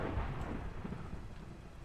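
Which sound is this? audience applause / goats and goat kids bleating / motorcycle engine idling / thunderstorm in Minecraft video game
thunderstorm in Minecraft video game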